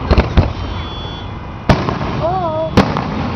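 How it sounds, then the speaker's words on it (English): Fireworks explode at a show building toward a grand finale: a few sharp, loud bangs come in scattered bursts, with a rising whistle between them and faint voices in the background. "Yeah, it's a firework."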